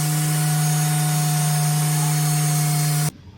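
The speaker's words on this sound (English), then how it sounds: "now we're gonna go in with a finishing polish and take care of this" A machine polisher hums steadily at close range while working finishing polish into a car's paint, then cuts off abruptly near the end, leaving near silence.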